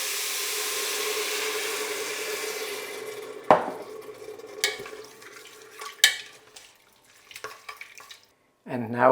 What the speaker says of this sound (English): And now we can deglaze the pot with a glass of water.